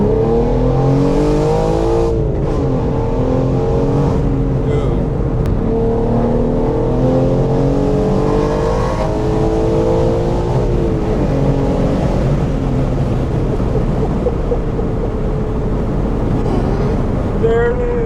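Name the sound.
tuned BMW M4 G82 accelerating in second gear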